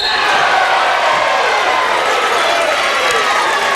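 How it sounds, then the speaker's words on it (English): Crowd at a high school girls' basketball game between Archbishop Williams and North Quincy reacting to a blocked shot, a loud, continuous roar of voices and shouting filling the gym with sneaker and ball noise beneath. "Colbert got a block and got a crowd reaction out of it"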